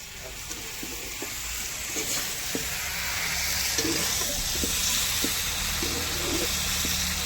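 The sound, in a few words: dried fish (shutki) curry frying in a pan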